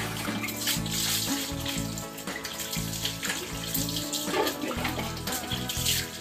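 Mineral water poured over a large dog during a bath, a continuous splashing and running-water sound, close and fairly loud, with shifting tone as the stream moves.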